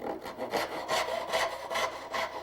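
A hand saw cutting wood along a marking gauge line, steady back-and-forth rasping strokes at an even rhythm of roughly two per second, close and clear with no voices.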